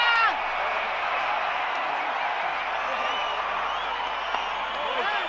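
A large cricket crowd at Vadodara roars and cheers after a wicket falls in an international match, a sustained dense wash of applause and shouting throughout, with a commentator's voice running over it.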